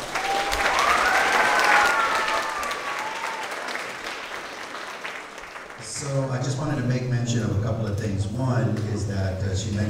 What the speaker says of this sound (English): if we could give a big round of applause to the kids